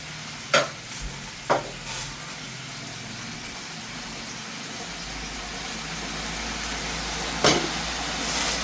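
Pork belly for lechon kawali fries in a pan with a broad steady sizzle, broken by a few sharp clanks or spatters, close up and fairly loud without speech.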